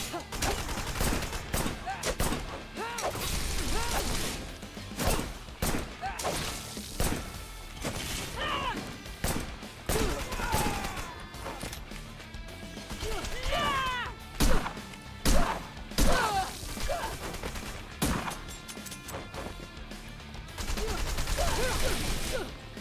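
Scattered gunfire and impacts in the action game Wanted: Dead, bursts of shots mixed with crashes and thwacks, moderately loud and irregular, with a voice talking over parts of the fighting.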